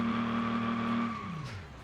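A supercharged V6 of more than six litres, with a broken exhaust, drifts with no grip in a racing video game; its engine holds a steady loud drone, then pitch drops away as it slides.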